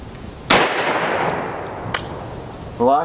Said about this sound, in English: So we'll get set up and take these shots.